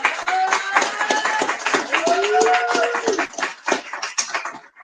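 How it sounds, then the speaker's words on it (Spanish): Scattered audience clapping at a book presentation, distinct individual claps rising and tapering off, with a voice speaking over the start. "Un fuerte aplauso para Carlos Santos."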